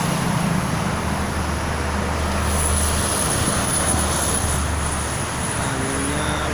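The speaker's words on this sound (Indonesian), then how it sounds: "Anginnya cukup lumayan kencang sih." Strong wind gusts blowing beside a Jakarta toll road, a steady broad roar with the low rumble of passing traffic underneath and a thin high whine running throughout.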